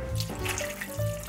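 Water poured from a tap-like stream for pizza casserole with rotini, a steady close splash lasting the whole moment with no talk.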